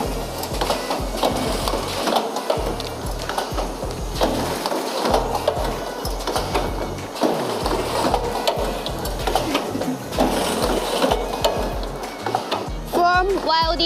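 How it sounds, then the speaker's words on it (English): A semi-automatic welding machine for folding mask headbands runs in a factory, a continuous dense mechanical whirring and clattering with rhythmic pulses, close and fairly loud. "this one is Rich's semi-automatic headband welding machine."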